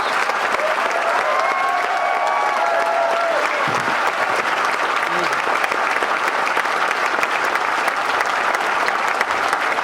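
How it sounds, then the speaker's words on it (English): Sustained crowd applause at a community college commencement ceremony in Warren County, New Jersey, a dense, even clapping that holds for about ten seconds, with faint voices and whistles scattered through it. "You deserve that applause."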